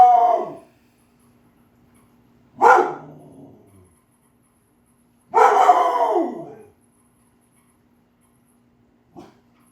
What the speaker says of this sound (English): this dog is pissing me off right now.